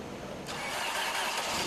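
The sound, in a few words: engine cranking and starting with cold 10W30 oil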